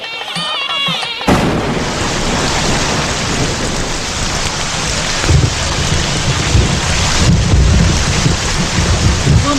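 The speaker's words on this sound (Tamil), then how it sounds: "மழை ஏன்டா இப்படி பெய்யுது" Heavy rain pours down in a loud, continuous roar with rumbles of thunder mixed in, starting abruptly after a moment of quiet.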